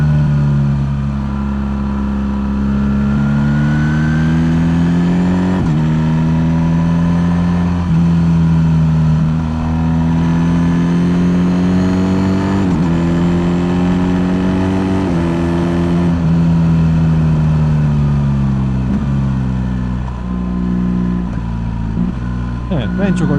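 A BMW R1300 GS motorcycle engine pulls hard while riding, its tone climbing through each gear and dropping abruptly at crisp quick-shifted upshifts, loud and close for over twenty seconds.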